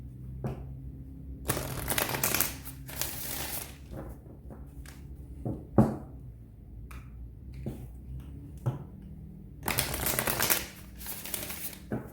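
Tarot cards shuffled close up in several crisp bursts of riffling and flicking, separated by quieter pauses with light taps and soft paper handling.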